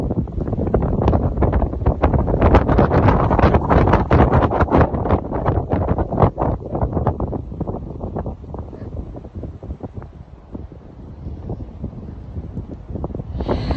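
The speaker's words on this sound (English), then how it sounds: "and it's very windy" Strong wind by a lake on a sunny, blustery day buffets the microphone in heavy, irregular gusts that are loudest early and ease somewhat toward the end, with no talking.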